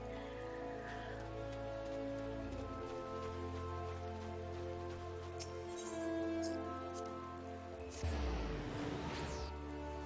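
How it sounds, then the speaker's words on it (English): Steady in-game rain falls in Final Fantasy XIV's Shroud, a soft continuous patter with faint clinks and a brief louder splash near the end. "We get rain for the rest of this. A rainy day in the shroud."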